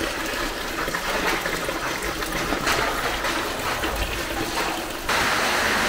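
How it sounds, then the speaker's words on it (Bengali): Water from the source of the Son river flows and trickles steadily downhill, a continuous broadband rush heard fairly close, with a slight swell in strength near the end. "এখান দিয়ে তারপরে এই জলের ধারা নিচে বয়ে গেছে।"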